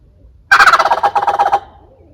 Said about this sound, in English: Man, they're going. Turkeys everywhere.